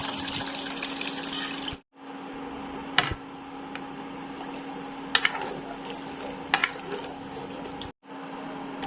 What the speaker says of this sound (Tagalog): Lagyan na din natin ng tubig.